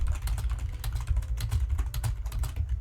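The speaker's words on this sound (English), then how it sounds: "I'm typing this up." Rapid, uneven clacking of keys on a computer keyboard, close and continuous over a low background hum.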